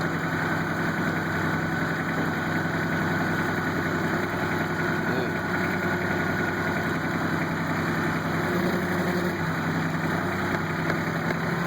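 A Kubota tractor engine runs steadily while moving heavy concrete blocks, a loud continuous idling drone with low mechanical vibration and no voices, unchanging across the whole stretch.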